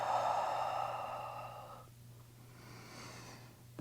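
A long, breathy exhale during a yoga breathing exercise, soft and steady for about two seconds, then fading into quiet room tone.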